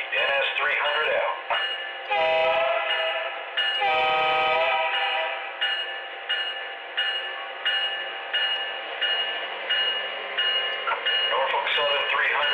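A Norfolk Southern 300 locomotive pulls railcars through a rail yard with a loud, steady mechanical drone and rhythmic pulsing, while radio voices talk over it.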